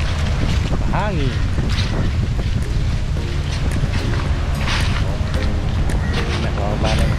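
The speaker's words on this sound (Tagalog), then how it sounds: "Hangin." Coastal wind roaring over the microphone during a seaside walk at sunset, a loud, steady low rush throughout, with people talking beneath it.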